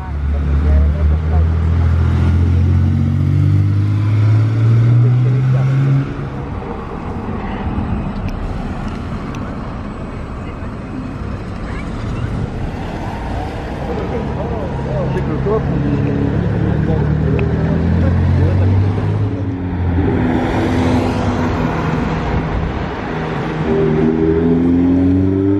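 Ferrari Dino sports car driving and accelerating, engine tones rising and falling in pitch, loud and close throughout with brief dips, with a person speaking over parts of it.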